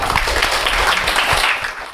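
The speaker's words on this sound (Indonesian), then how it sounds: "Tepuk tangan." A classroom of students claps together in a teacher training lesson, close and loud, a dense burst of hand claps lasting a couple of seconds.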